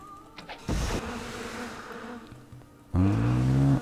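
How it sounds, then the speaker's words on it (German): A bee swarm spell cast in the video game Might and Magic 7 gives a short buzzing, droning insect hum, with a brief burst near the start and a louder, harmonic-rich swell of buzzing toward the end. "Oh, der Bienenschwarm funktioniert bei Geistern."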